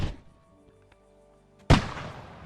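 A black powder rifle fires once in Kingdom Come Deliverance 2: a single loud, sharp blast with a booming tail that rings out over a quiet, low ambient game backdrop.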